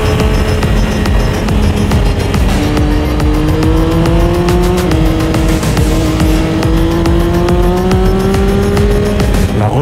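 A Triumph Daytona 675 three-cylinder sport motorcycle roars loudly and up close while being ridden, its engine note rising and shifting through the gears with a steady howl and wind noise.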